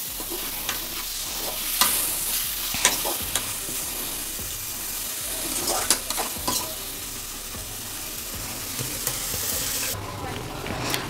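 Tomatoes being stirred and sautéed in a pan for a Tamil egg curry, a steady close sizzle broken by repeated scraping strokes of a spoon against the pan.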